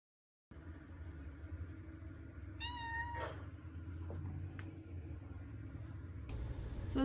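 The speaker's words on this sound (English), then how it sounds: "So it sounds like there's a cat inside the house" A cat meows inside a house, several distinct meows rising over a low rumble of a passing car or engine, with no one talking.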